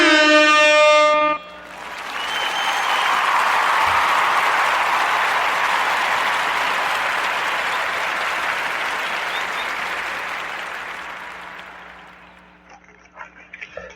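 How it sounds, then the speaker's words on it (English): A long blaring air horn blast follows a short burst of applause, the horn's loud sustained tone holding for about ten seconds before fading into a few faint clicks, with no talking over it. "I'm going to go on and hit him with the air horn"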